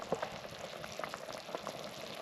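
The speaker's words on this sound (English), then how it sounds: "It is bubbling." Chicken stroganoff bubbles steadily in a pot, giving a dense, close simmering hiss dotted with small pops and bursts, with no voices.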